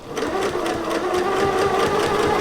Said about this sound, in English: I'm going to chain piece this right into there.